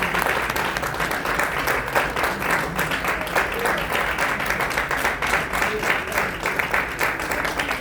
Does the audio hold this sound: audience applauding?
yes